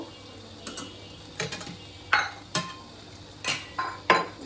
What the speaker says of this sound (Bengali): জলপাইটা ঢেলে দিচ্ছি